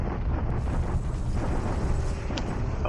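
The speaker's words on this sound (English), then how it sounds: "Bombardment attack of Guam." Bombardment explosions in a Pacific war strategy video game, a steady rumbling roar of blasts with a few sharp cracks, dense and continuous at moderate loudness.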